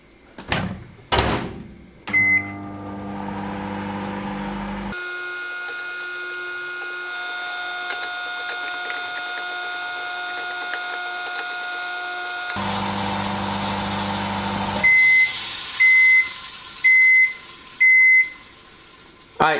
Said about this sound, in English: have our microwave because apples are supposed to be microwaved